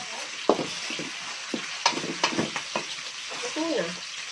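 Kangkong and tofu sizzling in a pan just after soy sauce goes in, a steady frying hiss broken by sharp scrapes and clacks of a spatula stirring, with faint speech toward the end.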